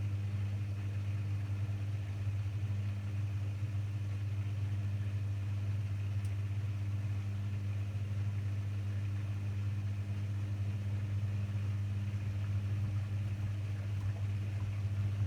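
A Beko WM74135W washing machine on its spin cycle under extreme overload gives a steady, loud low hum and drone. It runs without a break throughout, with faint rattling above the hum.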